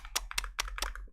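Four crisp keystroke clusters on a computer keyboard tap out in a quick, even rhythm, close and fairly quiet over a low steady hum.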